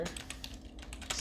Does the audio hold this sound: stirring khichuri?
no